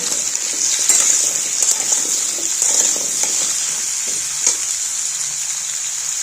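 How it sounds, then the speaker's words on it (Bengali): Papaya, potato and green chili pieces fry in a pan for a papaya and mung dal dish, a steady close sizzle with scattered clinks and stirring scrapes throughout. "দিয়ে সবজিটা ফার্স্ট একটু ভাজা করে নেব।"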